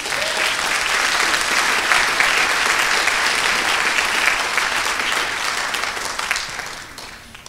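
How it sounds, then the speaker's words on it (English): A college speech night audience breaks into loud, sustained applause, dense clapping that holds steady for several seconds before tapering off near the end. "please give a big round of applause to Mr."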